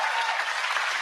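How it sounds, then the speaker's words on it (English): An audience breaks into steady, dense applause, a continuous wash of clapping from a crowd at a live televised talk event, loud and even throughout with no voices rising above it. "Can we just applaud her"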